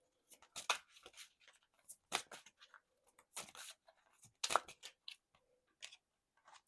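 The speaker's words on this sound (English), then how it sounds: "I was shuffling in reverse, so I'm going to shuffle again." Tarot cards are shuffled by hand in short, crisp bursts of riffling and flicking, close and fairly quiet, separated by brief pauses.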